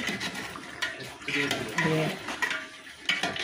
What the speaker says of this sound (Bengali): আর এদিকে রোস্টের মাংস ভাজাভাজি চলছে।